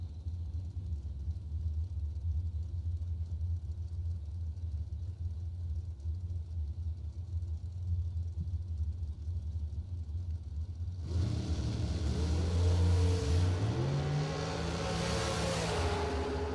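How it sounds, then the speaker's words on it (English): Drag race cars at a quarter-mile SuperBucks Showdown event launch from the line; a steady low idle rumble breaks into a loud, rising roar of revving engines that climbs in pitch as the cars pull away. "taking that Rafter P car down the racetrack first"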